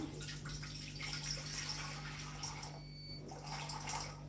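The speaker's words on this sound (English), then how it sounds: "This is just plain tap water." Plain tap water pours steadily from a faucet in a home kitchen, measured out for bread dough, a continuous close splashing rush with a low steady hum underneath and no talking.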